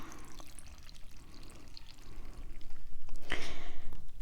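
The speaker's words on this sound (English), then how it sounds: "I'm going to add 1 cup of vinegar" A cup of vinegar poured onto strained vegetables in a home kitchen, a soft, low liquid splashing and gurgling that builds louder toward the end, with a brief bright clink near the close.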